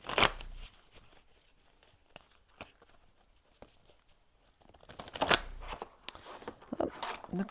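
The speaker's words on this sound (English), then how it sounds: "It's a really stiff deck. It's kind of naturally bent to one way. It's kind of hard to shuffle." Stiff, slightly bent Shaman Dream oracle cards being shuffled up close, with quiet scattered riffles and flicks, then a louder flurry of card slaps and rustles near the end.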